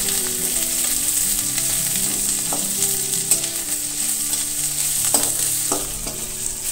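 Ginger, garlic, onion and green chili frying in hot oil in a pan, a steady sizzle throughout with occasional stirring clinks and scrapes of a spoon against the pan.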